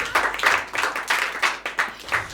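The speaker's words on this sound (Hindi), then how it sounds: "तो ये नया नया फ्रेश है, तो ताली वाली बजाते रहना।" At a stand-up poetry show, an audience claps in several distinct bursts that rise and fall about every third of a second, fairly close and with no voices over them.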